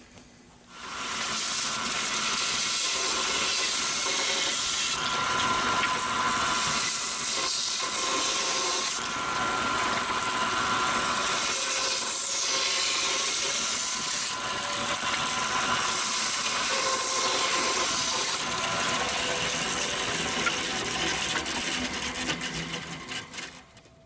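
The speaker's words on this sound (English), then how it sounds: "I'm going to cut these corners off with the bandsaw" A continuous harsh whir of a bandsaw cutting the corners off a woodturning blank, steady and loud for over twenty seconds before stopping abruptly.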